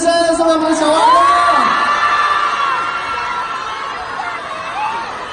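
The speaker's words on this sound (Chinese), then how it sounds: "来，掌声送给钟汉良先生，送给我们小蛙哥。" A live audience at a stage fan meeting cheers and shouts, with children's high voices and whoops in a loud, swelling roar that slowly eases off while a voice carries over it.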